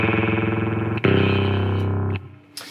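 Electric guitar through an Electro-Harmonix Ring Thing ring modulator, giving a fast wobbling tremolo-like beating on a held note, then a louder struck chord that rings briefly before cutting off, close and without talk.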